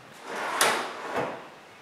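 A plywood drawer sliding shut on drawer slides: a short rolling whoosh that ends in a soft bump, then a second, quieter slide, close up and alone.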